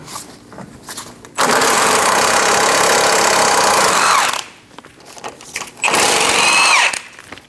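An air impact wrench with a 19mm socket buzzes loudly in two long bursts, removing the lower ball joint nuts and bolt on a 2008-2015 Scion xB, with brief quieter shop noise between.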